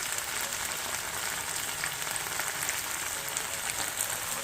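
Chilli paste frying in oil for Schezwan sauce, a steady, dense sizzle with fine crackles throughout and no talking.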